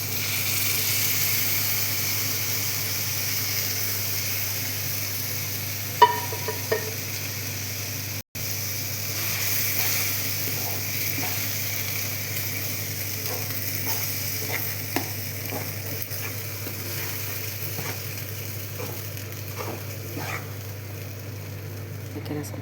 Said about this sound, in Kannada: ನಾನು ಈಗ ಬೇಯಿಸಿಟ್ಕೊಂಡಿರೋಂಥ ಹೆಸರುಬೇಳೆ, ತೊಗರಿಬೇಳೆ ಇವಾಗ ಇದಕ್ಕೆ ಮಿಕ್ಸ್ ಮಾಡ್ತಾಯಿದ್ದೀನಿ.